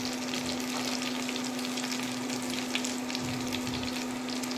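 Onion, garlic and ginger fry in oil for chicken Manchurian, a dense, even sizzle holding steady throughout, loud and close with a constant low hum underneath and no voices.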